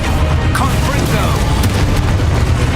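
Confringo fire spell cast in the video game Hogwarts Legacy, a dense, booming blast with fiery crackle over loud, continuous game action and a low rumbling bed.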